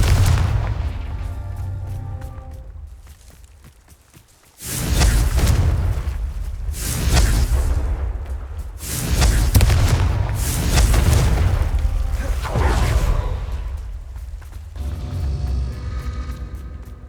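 Confringo blasting spells exploding in the Hogwarts Legacy video game, several deep booming blasts that roll out loudly one after another.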